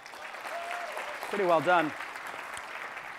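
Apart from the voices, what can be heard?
conference audience applause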